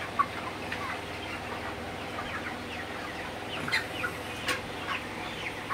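Broiler chickens cluck and chirp faintly in a crowded shed during intense heat, scattered calls rising over a steady low hum of fans, with no speech.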